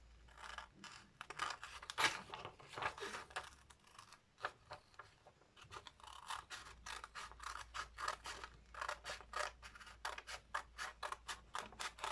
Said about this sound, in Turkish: Şimdi buradan keseceğim.